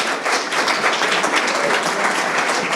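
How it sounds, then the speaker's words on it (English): A room of guests at a sales leadership awards ceremony gives a big, dense round of applause, loud and sustained with no pauses, close and filling the space. "Can we have a big round of applause"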